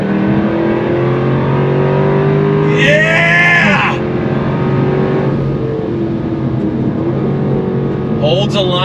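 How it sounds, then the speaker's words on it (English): A 2024 Jaguar F-Type R 75 launches hard from a standstill, its engine note climbing loudly through rising revs with a quick gear shift and rev spike, someone speaking and whooping over it. "we gotta go on throttle from a dead stop again"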